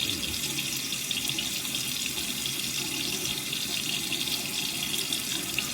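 Steady water pours from a bathroom tap into a sink as a face is wetted before a shave, a constant close hiss and splash running the whole time with no talk.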